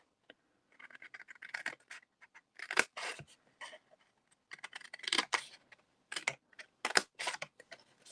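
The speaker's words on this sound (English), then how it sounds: "I'm going to snip both of these lines all the way up to the second one." Scissors snip through paper, cutting flaps for a reinforced treat box. The cuts come as quick, close, soft runs of clicks, separated by short pauses.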